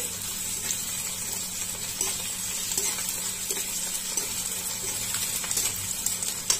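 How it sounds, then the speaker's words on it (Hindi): Ginger garlic paste is stirred into lightly fried onions in a pan while cooking methi paneer masala. A soft, steady sizzle runs throughout under faint scraping stirs, close and quiet, with no talk. "अब इसमें हम अदरक लहसुन का पेस्ट डाल देंगे थोड़ा सा चलाएंगे"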